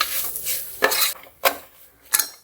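Curry masala gets stirred in a pan, three distinct scraping strokes of a spoon across metal over a low sizzle, with brief quiet gaps between them.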